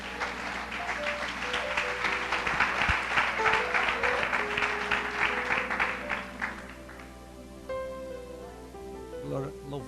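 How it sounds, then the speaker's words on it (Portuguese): A church congregation applauds, a loud sustained round of clapping that fills the first six seconds and then thins out, with organ or keyboard notes ringing beneath and carrying on as the clapping fades. "Podemos dar uma salva de palmas ao Senhor?"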